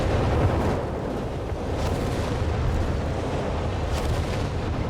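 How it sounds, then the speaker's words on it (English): In Company of Heroes 3, Needle Alpha artillery lays down an incendiary barrage, a dense, continuous rumble of low booms and crackling impacts that roll on without pause and carry no speech. "Another set of incendiary barrage from the Needle Alphas."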